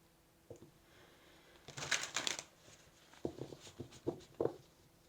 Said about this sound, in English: And I shuffle until I feel like I'm ready to get a card.